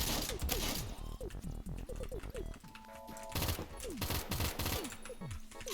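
Rapid battle rifle gunfire in the Phantom Forces shooter game, dense bursts of loud close shots with mechanical clicks and pitched effect tones, continuous throughout.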